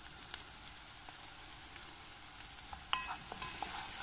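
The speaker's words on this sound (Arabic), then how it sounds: "بدنا نسفح فيهم لحد ما يستوي البصل شوي." Onions sautéing in a pot for squash soup, a soft steady sizzle with light crackles and a few louder utensil scrapes and clinks near the end, fairly faint and without speech.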